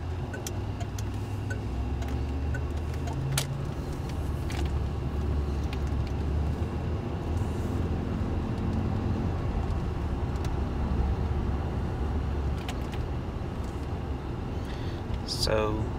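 A 1981 Cadillac Fleetwood Brougham d'Elegance with the roughly 140-horsepower L62 engine pulls away after being put in drive, parking brake releasing automatically, a steady low engine and road drone running throughout with occasional small clicks, while a person talks over it.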